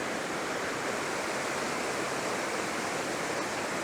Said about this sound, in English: lots of water coming down here today